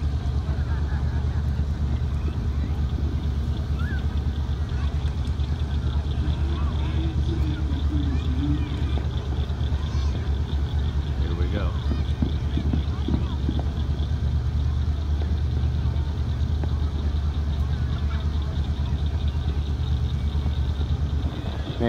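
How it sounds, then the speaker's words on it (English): A jet engine runs continuously outdoors near a Ford car, giving a steady, loud roar with a low rumble and wind buffeting on the microphone throughout, while people talk intermittently beneath it. "It's a jet engine."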